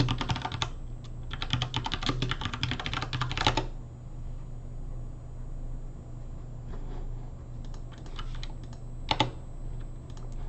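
Fast, close clatter of a computer keyboard as a password is typed, a dense burst for the first few seconds, then scattered key taps with a sharp pair near the end, no talking.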